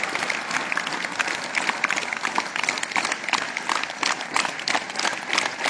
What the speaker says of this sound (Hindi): हम सभी एक बार जोरदार तालियों से,